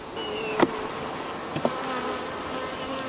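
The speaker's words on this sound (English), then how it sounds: "There's still some bees, but let's see how they're doing in here." Honey bees at an opened hive give a faint, steady buzzing drone throughout, with a few soft clicks and knocks from handling the frames.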